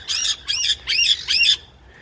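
A parrot squawks four times in quick succession, harsh and loud, each call short and raspy, then stops.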